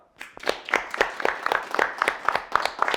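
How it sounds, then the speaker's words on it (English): Applause from a live audience at a comedy roast, with distinct claps rising in rhythm and holding steady for a few seconds, fairly close and with no talking over it. "Let's give these two a round of applause"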